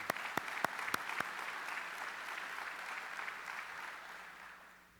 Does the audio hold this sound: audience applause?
yes